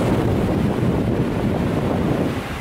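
Strong wind blows steadily at a beach, a loud, dense rush buffeting the microphone with no voices and a slight easing at the end.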